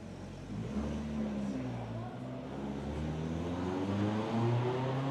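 A modified car making 620 wheel horsepower, with upgraded pistons, springs, retainers and rods, revs with a steady, rising and falling engine note at a cars-and-coffee meet, moderately loud with background crowd noise.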